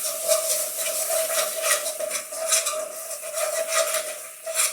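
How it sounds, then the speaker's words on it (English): Ginger garlic paste fries in a pan with a steady hiss and faint sizzle, while a spoon stirs and scrapes against the metal in an even rhythm close by. "I'm going to add a chef's spoon ginger garlic paste. Fry that for a minute"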